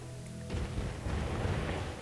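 Building demolition in the city-builder game SimCity 2013: a quiet hum breaks into a sudden rumbling crash at about half a second, and the crumbling roar carries on steadily to the end.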